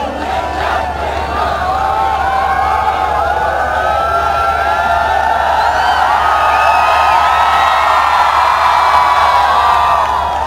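A crowd of students at a live comedy show in Sikar cheers, whistles and claps, a loud, steady roar of whoops and shrill whistles that carries on without a break.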